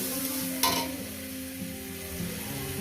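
Pointed gourd paste goes into a pan of fried onions, giving a soft sizzle with a sharp spoon clink and light stirring scrapes, close and quiet with no speech.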